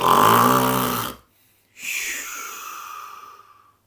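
A storyteller's voice imitates a giant's snoring: one long, loud, rumbling snore, a short pause, then a breathy exhale that fades away.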